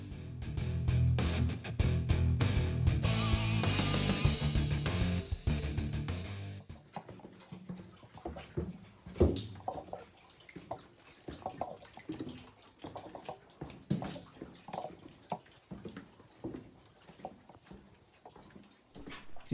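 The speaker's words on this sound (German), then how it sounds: "Sie sehen hier das Wasser, wie es hier nach unten tropft." Water drips down inside an old mining tunnel in Schabenhausen: a burst of loud rushing noise first, then scattered soft drips and taps echoing irregularly in the quiet.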